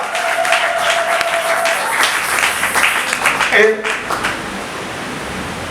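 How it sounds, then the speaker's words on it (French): A church congregation claps during a Sunday sermon, broad applause rolling through the hall while a voice speaks over it and a brief tone sounds partway through. "Est-ce que nous pouvons applaudir pour notre Seigneur?"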